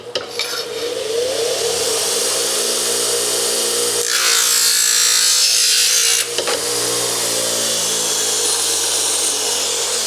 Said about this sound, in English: So then what we now do is trim this thing. So you'll see the saw behind me.